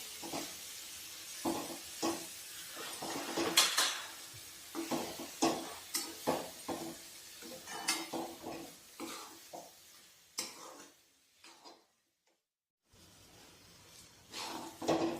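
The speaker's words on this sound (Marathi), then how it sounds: "आता आपल्याला हे छान मिक्स करून घ्यायचं आहे" Mashed eggplant bharit stirred and mixed in a pan over low heat, repeated scraping and clattering strokes with a soft sizzle beneath, pausing briefly into near silence before the stirring resumes.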